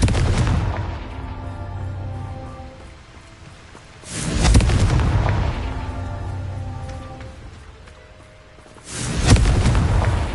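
Confringo blasting spells in Hogwarts Legacy burst in two heavy, booming explosions a few seconds apart, each rolling into a long rumbling decay over a low, noisy background.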